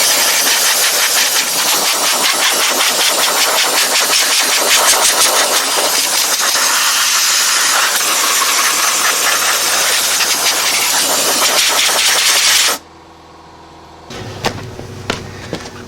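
Rotten old 1956 VW Beetle engine running after a carburetor swap: a loud, steady air-cooled engine roar close by, cut off suddenly, followed by quieter clicks and clatter.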